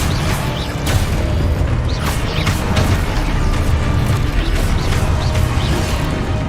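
Expulso spell blasts in the Hogwarts Legacy video game, a dense, loud rumbling of booming explosions and crackling impacts that goes on without pause amid the combat.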